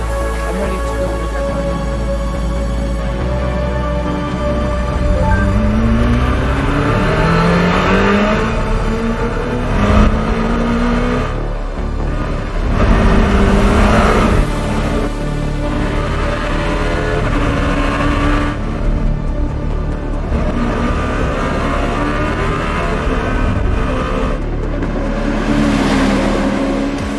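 A Czinger 21C hypercar at full race pace around Laguna Seca Raceway, its engine climbing through rising gear sweeps and dropping on downshifts, loud and sustained from a close onboard position, with faint talk mixed under the roar.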